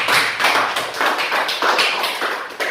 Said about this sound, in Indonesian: tepuk tangan dulu untuk Fadlan.